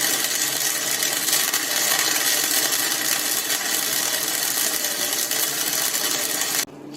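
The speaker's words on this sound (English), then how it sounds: "first time I've really tried to weld 2 different types of steel together at the same time" Steady, continuous arc welding joining two different types of steel for a homemade T-post driver, a constant crackling hiss holding level for several seconds before cutting off abruptly near the end.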